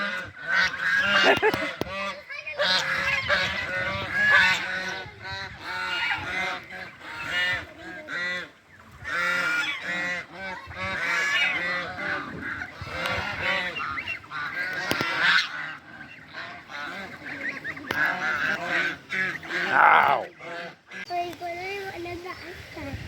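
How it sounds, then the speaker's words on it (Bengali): Geese honk repeatedly while grazing on grass, with young goslings among the adults; loud, close calls continue steadily throughout, with a voice and other chatter mixed in. "এই যে রাজহাঁস ইয়ে করছে, ঘাস খাচ্ছে, ঘাস।"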